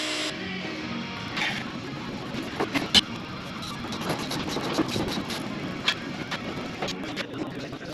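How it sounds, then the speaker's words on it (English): A fuel pump running off a jump pack draws fuel out of an old bus, giving a steady close mechanical whir and hum with small clicks and knocks throughout. "Right, so we're just pumping the fuel out now."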